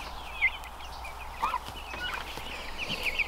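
Turkeys gobble in a few scattered bursts, moderately near, mixed with other faint bird calls over a quiet barnyard background.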